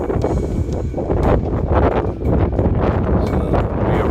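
Strong wind blowing in the 20s buffets the microphone in loud, uneven gusts, roaring and rumbling without a break and with no one speaking.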